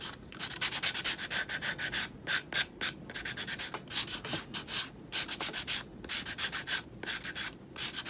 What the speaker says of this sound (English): Now I'm just going to take my little finger sander and just kind of sand the edges on it.